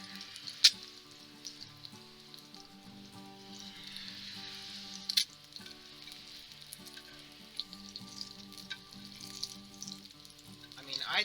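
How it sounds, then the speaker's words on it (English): Eggs frying on a Coleman 4-in-1 outdoor grill, a steady soft sizzle and crackle running throughout with a few sharper pops, fairly faint and close. "Let that cook for like a second. We don't want to go too crazy. Fry up that yolk."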